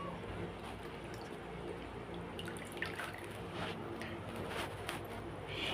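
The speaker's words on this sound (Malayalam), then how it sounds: "അപ്പോൾ ഇത് അവസാന റൗണ്ട് കഴുകലാണ്" Raw chicken pieces washed in a water-filled vessel during a final rinse, soft continuous sloshing and dripping, quiet and close, without talking.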